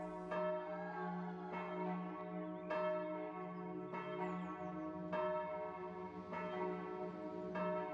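A church bell rings loudly and alone with a steady rhythm of about six strikes spaced roughly every second and a quarter, each stroke swelling and then humming with a long overlapping resonance.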